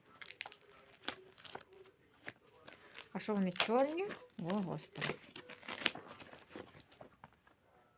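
Plastic packaging being unwrapped, one bag nested inside another, with crinkling and tearing bursts between stretches of a woman's speech, close and moderately loud.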